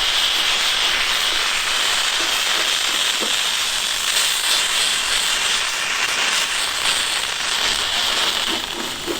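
Steam hisses loudly and continuously up close from a crash-damaged Subaru Impreza WRX, a broad rushing noise with faint clicks and rattles mixed in.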